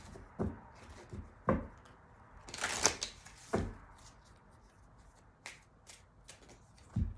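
A deck of tarot cards is shuffled softly by hand in quiet, short riffling bursts spaced across several seconds, close up and low in level.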